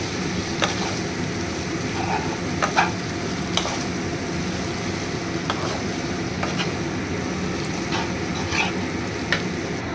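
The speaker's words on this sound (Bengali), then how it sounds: "আমি এর মধ্যে এখন নুডলসটা দিয়ে দেবো, অল্প অল্প করে দিয়ে নাড়তে থাকবো।" Noodles are stirred and fried in a pan with sausage and chicken, a dense, even sizzle beneath intermittent scraping and tossing strokes, close and steady throughout, no talking.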